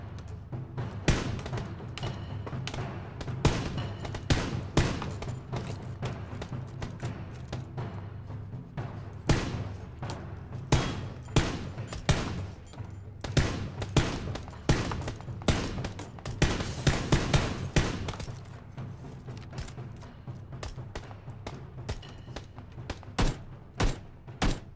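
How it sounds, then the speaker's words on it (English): Gunfire in PlayerUnknown's Battlegrounds, sharp repeated shots in irregular bursts and volleys across the whole stretch, loud and punchy with occasional thuds, no talk. "They're taking multiple shots."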